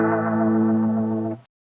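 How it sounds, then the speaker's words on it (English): Electric guitar through a Line 6 POD HD500X rotary drum effect with no amp model: one sustained chord ringing loud and steady with a swirling, wavering tone, then cut off abruptly after about a second and a half. "And here's with the rotary drum without the amp model."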